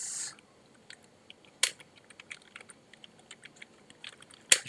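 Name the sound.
typing on a computer keyboard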